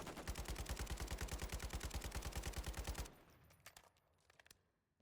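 A Kastov 762 rifle in a video game, loaded with high-grain rounds and fitted with negative recoil and a Jak Requiem kit, fires a fast, loud sustained burst for about three seconds, followed by a few scattered, quieter echoing shots.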